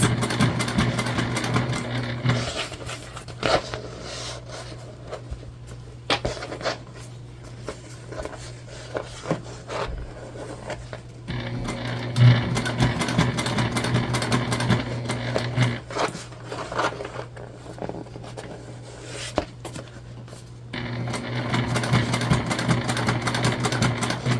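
A sewing machine top stitching the base of a Briana bag, running in steady mechanical bursts with a few short pauses between runs.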